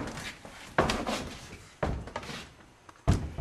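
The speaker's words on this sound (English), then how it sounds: "This door only opens this far" A wooden door on a theatre stage set swings open with several dull knocks and thumps. The movement comes in bursts and sits close by.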